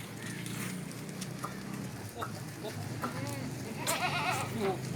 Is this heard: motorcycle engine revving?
no